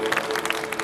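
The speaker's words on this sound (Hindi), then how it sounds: "ताली बजा के परमेश्वर का धन्यवाद।" A church congregation claps at a prayer gathering, a brief dense burst of many hands close by with a sustained sung or droning tone running beneath it.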